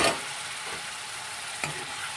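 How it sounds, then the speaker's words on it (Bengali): Fish heads with eggplant sizzle in a pan, a steady close frying hiss with occasional stirring scrapes and a sharper clack near the end, with no voices. "এবার আবারও নেড়ে চেড়ে কষিয়ে নেব দু তিন মিনিট"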